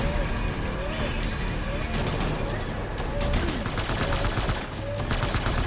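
Steady rattling bursts of gunfire from blood bullets in the video game Death Stranding, dense and continuous under game effects and music, with no clear pauses between shots.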